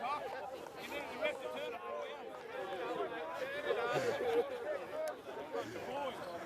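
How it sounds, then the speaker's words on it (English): Excited, noisy crowd at a men's rugby preliminary final in Tasmania, a continuous hubbub of overlapping shouts and chatter close by, with voices rising and falling throughout. "So the crowd's getting excited."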